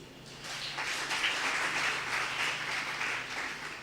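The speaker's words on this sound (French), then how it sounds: "Tu es là, acclame Jésus." A church congregation bursts into applause, loud clapping swelling and holding steady for several seconds before easing off slightly.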